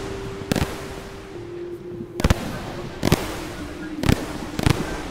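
Artificer jump skill in Risk of Rain 2 firing repeatedly, with five sharp bursts spaced unevenly over a steady low hum, each a brief loud whoosh-like pop.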